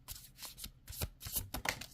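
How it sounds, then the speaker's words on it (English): A deck of tarot cards is shuffled by hand in quick, soft riffling bursts, several short flurries close up and fairly quiet, with no talking. "Let me give them a little shuffle."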